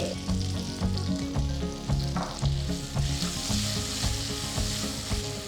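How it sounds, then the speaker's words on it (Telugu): Sliced sambar onions and curry leaves fry loudly in hot tempering oil, giving a dense close crackle with rhythmic stirring scrapes and no voices. "ఇక్కడ కొన్ని సాంబార్ ఉల్పల్ని సన్నగా తరిగి అవి కూడా వేస్తున్నాను తాలింపుకి"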